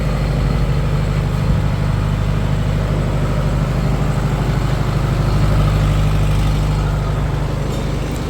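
A Tata Cummins 30 kVA silent diesel generator runs with no load, giving a steady low engine hum and drone that holds constant and close throughout, with no voices over it.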